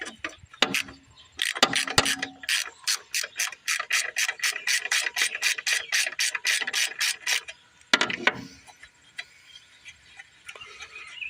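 A ratchet wrench clicking in quick, even bursts while loosening the flywheel nut on an old push mower, close and loud, with a short pause and one more burst, then a quiet tail.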